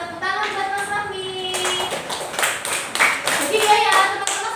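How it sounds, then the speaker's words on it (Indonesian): A class of children clap for a classmate in a school lesson, a burst of scattered hand claps that starts partway in and continues, with a teacher's voice and children's voices speaking over it. "Kasih tepuk tangan buat Mas Fahmi."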